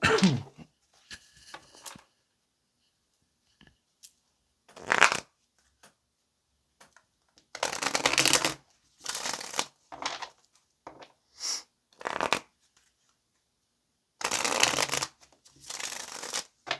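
A deck of tarot cards being shuffled in several separate bursts, crisp riffling rasps with quiet pauses between them, close and fairly soft with no talking.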